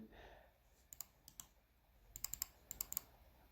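A quick series of light computer mouse and keyboard clicks, small crisp ticks in short clusters, close and faint against a quiet room, with no talking.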